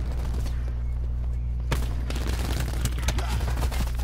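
Bursts of gunfire in Call of Duty Black Ops 4 multiplayer, dense rattling shots over a loud rumbling game soundscape, with a sharp crack partway through.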